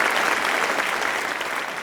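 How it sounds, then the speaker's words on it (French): A television studio audience applauds in a dense, steady wash of clapping that runs throughout at an even level and eases slightly toward the end, with no speech on top. "j'aimerais aussi que le public s'applaudisse"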